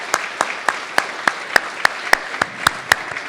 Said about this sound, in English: give yourselves a round of applause and good luck